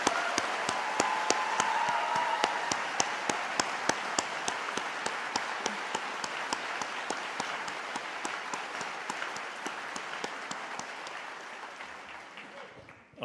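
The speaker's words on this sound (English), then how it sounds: "Can I ask for a round of applause for our amazing orator" A convocation audience for the Faculties of Dentistry and Health applauds the orator in a long, steady round of clapping that holds evenly and fades out at the end.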